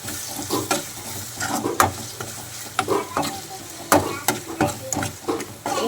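Ginger paste being stirred into mutton curry with onion, tomato and green chilli in a pan, a spoon scraping and clacking in irregular strokes over a steady low sizzle, close and moderately loud with no talking.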